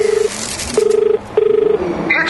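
A satellite phone gives a loud, close ringback: three steady tone bursts with short gaps between them, followed by brief higher electronic beeps at the end.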